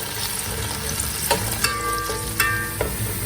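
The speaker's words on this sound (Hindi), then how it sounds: "और अब आपने इसको ब्राउन करने तक फ्राई करना है" Chopped onions sizzle and crackle steadily in hot oil in a cooking pot, with a few louder stirring clinks and scrapes cutting through the continuous frying hiss; no one speaks.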